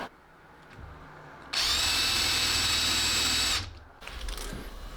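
A power drill bores lead holes into a clownfish glidebait fishing lure. After a quiet start it whines loudly and steadily for about two seconds, then stops, and some softer handling noise follows.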